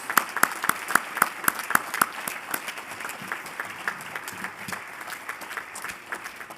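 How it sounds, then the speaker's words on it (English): An audience at a spring awards ceremony breaks into applause, opening with sharp, distinct claps that blend into a steady, fading patter over several seconds. "Let's give them a big round of applause."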